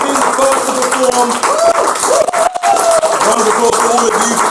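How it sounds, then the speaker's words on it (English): An audience at a comedy show gives loud, sustained clapping and applause that continues across the whole stretch with only a brief dip. "Give a round of applause to EJ."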